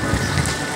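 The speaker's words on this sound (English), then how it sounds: "A little rain is not gonna hurt my trip." Steady rain falling during a trip, a brief dense hiss of drops with no talk.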